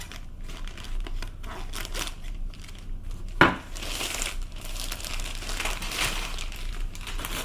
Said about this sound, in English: I will use these super sharp scissors to cut through it